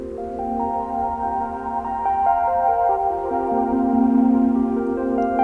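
Synth pad in Logic driven by an arpeggiator at 16th notes, built for worship music: a fast, even run of sustained-sounding notes stepping through chord tones, moderately loud and heard alone.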